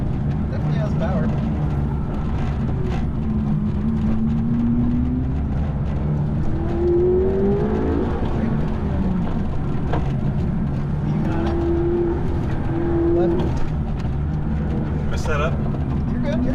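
A McLaren MP4-12C engine rises and falls in pitch through an autocross course, with repeated surges of acceleration droning beneath continuous talk from people inside the car.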